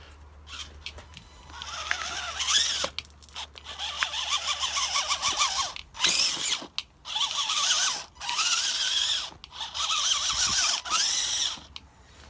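An RC crawler's drivetrain runs on a floor, giving a loud whining, squealing motor-and-gear sound in repeated bursts of a second or two, separated by short pauses and revving up and down.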